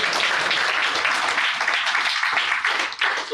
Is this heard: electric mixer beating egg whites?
no